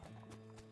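Horse hooves clip-clop in the West of Loathing video game, a quick rhythmic pair of muffled thuds over a steady low hum, with no talking.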